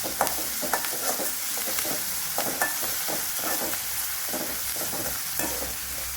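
Half a tomato sizzles and sautés in a hot pan with turmeric while a utensil stirs it, with scattered scraping clicks over a steady frying hiss.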